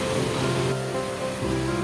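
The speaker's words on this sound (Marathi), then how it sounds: "आता पाऊस कंटिन्यू पडत असल्यामुळे धबधबा पुन्हा वाहू लागलेला आहे" Waterfall swollen by continuous rain, flowing beside MHADA housing buildings in Goregaon East; a loud, steady, unbroken rushing roar with no voices.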